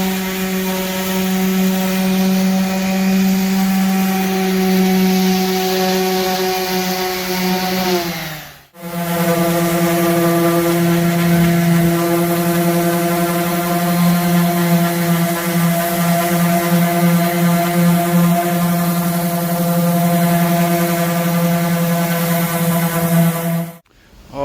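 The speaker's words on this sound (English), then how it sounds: "I just got done sanding down these bad rust spots with an 80 grit" A power sander fitted with 80-grit paper grinds rust spots from a 2001 Dodge Dakota truck bed, a loud steady droning whine that runs continuously, cuts out briefly, then restarts and holds at the same pitch.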